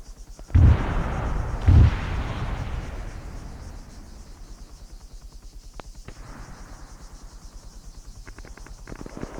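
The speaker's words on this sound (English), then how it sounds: "Guess I'm not the only one shooting at them." Two loud, booming sniper rifle shots in Arma 3, about a second apart, each followed by a long rolling echo that fades into quiet background ambience.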